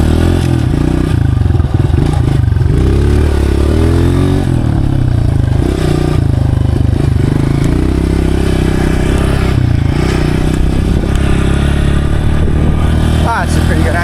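Dirt motorcycle riding a bush track, its engine roaring loudly and steadily throughout with rising and falling revs, clatter and wind buffeting close to the rider.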